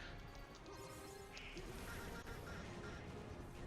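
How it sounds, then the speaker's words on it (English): Donald Duck in the Kingdom Hearts 2 video game, quacking as he takes hits, mixed with crashing and whacking combat effects at a steady, busy level with no talk over it. "I just hear Donald just quacking as he gets hit."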